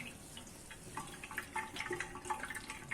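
Whey trickling and dripping from hung curd tied up in cloth for shrikhand, a soft irregular patter of small drops and a thin watery flow, faint and close, with no talking.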